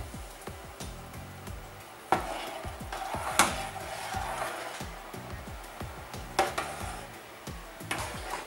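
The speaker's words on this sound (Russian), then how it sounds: "Также старательно размешиваем." Citric acid is stirred into dissolved sugar syrup in a pot, with soft, rhythmic scraping and a few light metallic clinks against the pot sides, fairly quiet and without speech.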